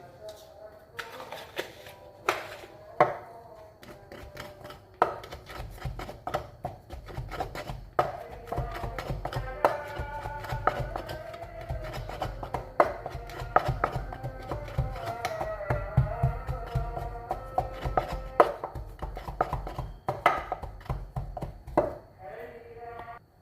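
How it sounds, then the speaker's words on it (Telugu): Repeated heavy thuds of garlic and chilli pounded in a stone mortar, irregular in rhythm, mixed with talking and a melodic background. "కొంచెం ఈ రోల్లో బాగా మెత్తగా కాదు, కొంచెం పచ్చగానే దంచుకుంటున్నాను"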